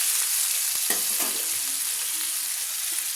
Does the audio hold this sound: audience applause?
no